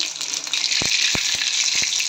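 Cumin and mustard seeds hitting hot oil in a kadhai on a gas stove give a steady bright sizzle, broken by a few sharp pops and crackles.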